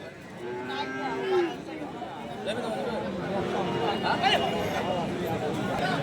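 Cattle, including Sahiwal cows, moo amid a busy livestock market crowd, with a low drawn-out bellow standing out over steady chatter and background babble.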